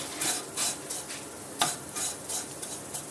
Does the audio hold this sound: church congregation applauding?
no